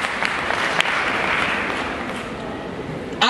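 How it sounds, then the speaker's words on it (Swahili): A crowd of university students applauds in an indoor hall at a political rally, giving a dense, continuous burst of clapping that stays loud throughout the short stretch. "Piga makofi kwa ajili yake."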